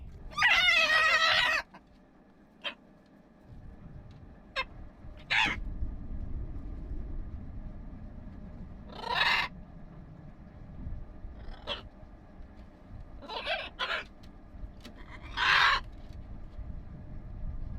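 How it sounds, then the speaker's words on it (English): Birds call outdoors near a sailboat, with a loud harsh call at the start, then scattered short chirps and louder squawks spaced a few seconds apart over a low steady background. "the birds are just all full of energy and talkative"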